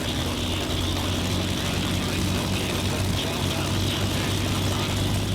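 The Rolls-Royce Merlin engine of a Lancaster bomber roars at a steady running pitch, loud and continuous with a deep throbbing hum, and a voice talks over it.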